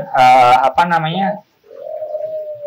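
A person speaks briefly, then a turtle dove gives a soft, low, drawn-out coo, close by.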